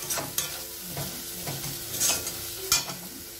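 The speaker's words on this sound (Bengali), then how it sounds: "এবার ভালো করে নেড়ে নিয়েছি কিছুক্ষণ দিয়ে" Egg todka fries in a pan, a soft sizzle under several quick scraping strokes of a spoon stirring it, close but fairly quiet and without speech.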